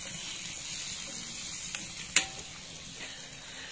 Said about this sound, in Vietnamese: đậu vàng rồi, xin mời anh em chuẩn bị ăn đậu rán với mình